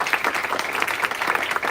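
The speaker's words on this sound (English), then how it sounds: "Let us give a big round of applause to Bimal Bhai, who is always there for us." Applause at a graduation ceremony, dense continuous clapping from a crowd, close and steady for the whole short stretch with no voices on top.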